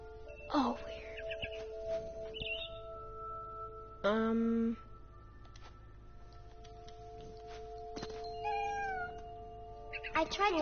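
A cat meows several times in the video game What Remains of Edith Finch, with drawn-out rising and falling cries spread across the scene over a steady game soundtrack.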